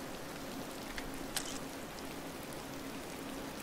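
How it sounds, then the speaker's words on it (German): Steady rain falls in the Disney Dreamlight Valley video game, an even, dense hiss of drops with a faint tick or two, alone and unbroken throughout. "In jedem anderen Spiel hat man die Möglichkeit, dass man so Regen und so nämlich ausschaltet."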